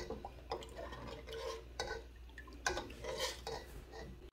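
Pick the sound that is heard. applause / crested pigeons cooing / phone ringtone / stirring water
stirring water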